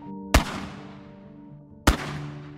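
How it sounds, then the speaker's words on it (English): Two sharp, loud gunshots about a second and a half apart, each with a ringing decay, heard from a truck stopped on a highway. "About that time, we heard 3 gunshots."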